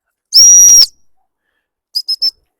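A dog training whistle: a sharp, high-pitched blast, followed after a pause by three quick short pips, close and clear against silence.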